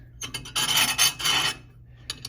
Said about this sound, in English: We're going to drill on the skinny end first all the way through.